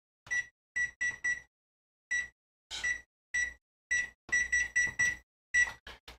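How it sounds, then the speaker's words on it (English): A kitchen timer beeps in a quick irregular series of short, clear electronic tones, some grouped in threes and fours, close and alone in an otherwise quiet room. "I'll leave this at a timer."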